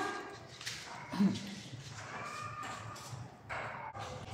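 A Pomeranian puppy whimpers and whines in short, high-pitched bursts, close by, with some faint rustling and movement around it.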